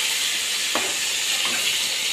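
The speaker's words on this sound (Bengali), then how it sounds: "তো মাছটা এখন খুব ভালো করে ভাজা হয়ে যায়।" Fish frying in mustard oil, a steady, loud hiss and sizzle that runs through the whole clip, with a couple of soft scrapes or spatters mixed in.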